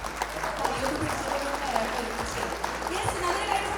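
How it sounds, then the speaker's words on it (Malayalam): Steady applause from a gathered crowd at a betrothal ceremony as the couple is welcomed onto the stage, continuous clapping lasting throughout with faint voices mixed underneath. "നല്ലൊരു കൈയടി ഈ ബ്യൂട്ടിഫുൾ കപ്പിളിന് വേണ്ടിയിട്ട്"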